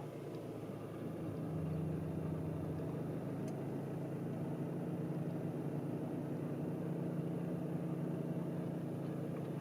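A 2017 SEAT Alhambra FR engine idles just after starting, a faint, steady low hum heard from inside or near the car with no talk.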